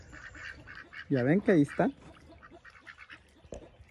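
A mother duck and her ducklings at a small backyard pool give a short cluster of loud quacks near the middle, with Spanish speech softly before and after.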